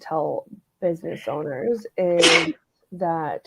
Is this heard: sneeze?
yes